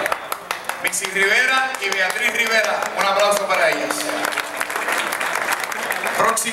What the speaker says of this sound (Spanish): Missy Rivera y Beatriz Rivera, un aplauso para ellas